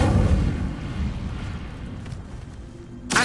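An Incendio fire spell cast in Hogwarts Legacy gives a loud rushing, roaring whoosh of flame that slowly fades, followed by a sharp burst at the end.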